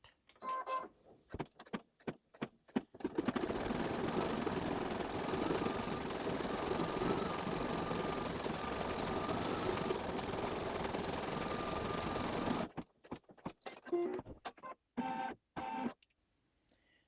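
An embossing machine stitches zigzag stripes on a quilt block as a steady mechanical whirring run of about nine seconds, with quiet clicks and pauses before and after it.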